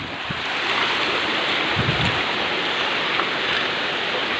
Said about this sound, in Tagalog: Lakas ng bagyo, bagyo, bagyo.